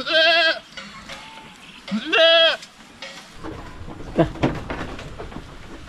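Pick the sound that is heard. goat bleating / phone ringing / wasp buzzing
goat bleating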